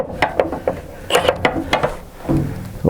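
Ratchet socket wrench being handled during an Espar heater install, bursts of quick metallic clicking and clattering of the socket tool, several separate close ratchet runs with short pauses, no talking.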